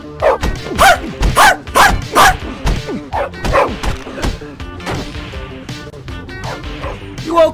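Repeated sharp dog barks and yips in quick bursts in a video game, with crashes and scuffling between them, fading to quieter whimpers toward the end.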